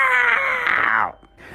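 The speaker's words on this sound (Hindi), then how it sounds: "और तभी किसी के चीखने की आवाज आती है।" A single long, loud scream from a movie scene, high and sustained for about a second before cutting off abruptly into near quiet.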